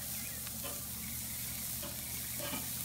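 Meat searing over a hot grill gives a steady broadband sizzle, with a few faint clinks and brief scrapes scattered through it and no voices.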